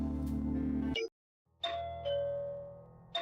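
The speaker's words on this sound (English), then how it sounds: "Why'd you ring the doorbell?" A doorbell chime from the point-and-click game Blackwell Deception: a loud tone cut off by a brief silence, then a clear two-note ding-dong ringing out and decaying, with no voices.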